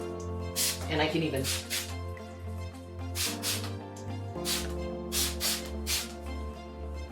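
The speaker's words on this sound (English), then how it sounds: "I also have that trusty spray bottle, and I'm just gonna spray" Several short hissing sprays from a spray bottle onto a painting in quick bursts, heard up close over steady background music, with a person talking briefly in between.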